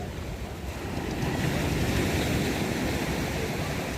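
Ocean waves washing onto a beach near Pondicherry, a continuous broad roar of surf with wind buffeting the microphone, swelling slightly louder after the first second and holding steady.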